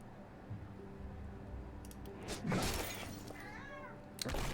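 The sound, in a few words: cat rustling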